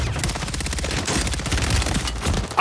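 Sustained rapid automatic gunfire in a video game, a dense and loud burst of rattling shots that runs unbroken for the whole stretch.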